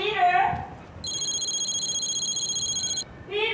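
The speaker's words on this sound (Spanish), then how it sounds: "conteste el teléfono, por favor" A telephone rings in a busy household, two stacked high electronic ring tones pulsing steadily for about two seconds after a voice fades, with talk resuming right after the ringing stops.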